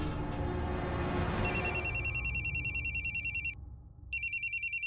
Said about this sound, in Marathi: विजूचा फोन.